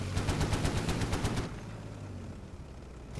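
A BMP-1 in a combat video game fires a rapid burst of about ten evenly spaced sharp shots over a second and a half, loud and close, then gives way to lower rumbling background noise.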